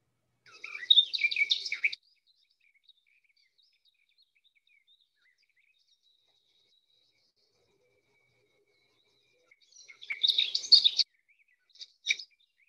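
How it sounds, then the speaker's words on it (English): A garden warbler in scrubby habitat sings quick, hurried warbling phrases, one long burst and then another with a short trailing note, clear against near silence. "So that's the garden warbler, so more of a scrubby area bird."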